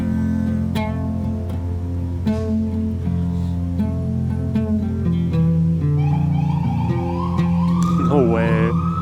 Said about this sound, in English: The sirens? Is that real?